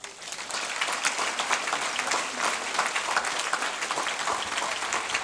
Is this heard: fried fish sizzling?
no